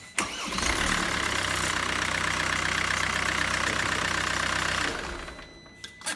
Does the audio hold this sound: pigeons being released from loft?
no